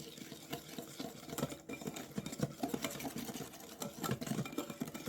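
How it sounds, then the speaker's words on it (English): A whisk stirs organic cane sugar into melted butter in a bowl, a quick steady patter of scraping strokes, close and fairly quiet with no talk. "We're gonna whisk that in."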